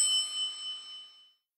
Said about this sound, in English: And bells.